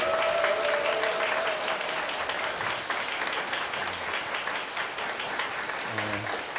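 An audience applauds the classical ensemble of the National Museum of Korean Contemporary History at a Liberation Day history concert, sustained dense clapping filling the hall throughout.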